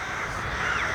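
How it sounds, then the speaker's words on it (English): Crows cawing in a park: harsh, overlapping caws fill a short stretch, fairly loud and near, with no talk. "A lot of crows around here."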